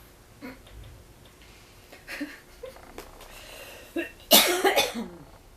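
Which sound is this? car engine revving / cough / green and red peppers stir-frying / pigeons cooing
cough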